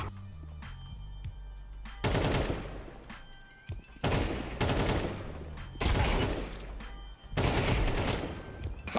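Gunfire from Counter-Strike 2, a computer shooter game: four loud, broad bursts arrive about every two seconds, each a heavy crack trailing into a short ringing tail, with quieter clicks and game noise between them.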